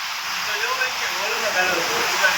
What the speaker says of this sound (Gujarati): ફરિયામાં જો પાણી માતું નથી એટલું પાણી પડે હો ભાઈ